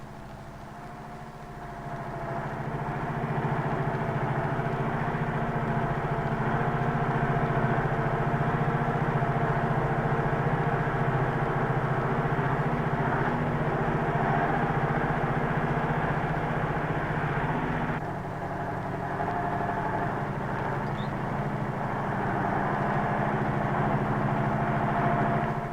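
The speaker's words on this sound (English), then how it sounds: "Steering wheel tilting is checked with the engine running and the wheels in their normal position." A KrAZ truck's diesel engine idles steadily for the whole stretch, a continuous low rumble with a brief dip in level near the end, no voices present.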